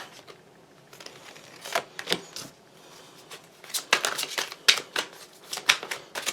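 Tarot cards are handled and laid out on a table, giving soft scattered slaps, flicks and shuffling rustles that grow busier toward the end, quiet and close with no talking.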